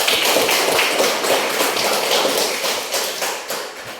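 Classroom audience applauding during a teaching session, a dense, steady wash of clapping that holds loud and close for the whole stretch before tapering slightly at the end.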